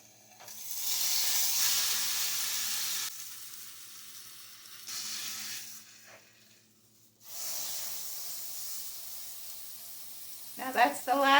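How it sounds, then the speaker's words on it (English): Beef seared in a hot pan for au jus sandwiches, a broad bright sizzle that swells and fades in bursts with short quiet gaps, then a few sharper clinks and scrapes near the end. "Now that's the last side that it needs to sear on"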